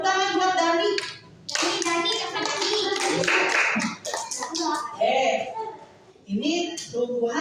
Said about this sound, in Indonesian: Tepuk tangan buat Dani.